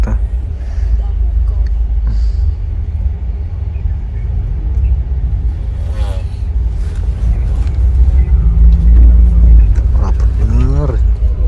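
A bus engine rumbles low and steady from inside the moving coach as it takes a shortcut near a busy pier, with passengers talking over it throughout.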